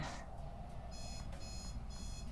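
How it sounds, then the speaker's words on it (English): An alarm clock rings in a room during a card-game session, a steady electronic beeping that comes in two clear bursts over low background noise, with no talking. "Shut up, alarm clock!"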